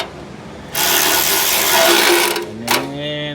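A cordless power tool whirs loudly for about two seconds while running in engine bolts during assembly of a 1965 Mustang coupe, then stops and gives a short burst before winding down.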